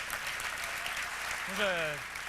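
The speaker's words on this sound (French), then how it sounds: "c'est nous autres qui applaudissent" Audience applause at a Quebec comedy awards gala, a steady wash of clapping throughout, with a voice briefly speaking over it near the end.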